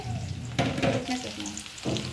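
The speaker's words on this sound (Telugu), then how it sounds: "ఉల్లిగడ్డ పచ్చిమిర్చి ఫ్రై అయ్యేలోపు" Onions and green chillies fry in hot oil, giving a close, continuous sizzle with stirring scrapes and a few bursts of louder crackling.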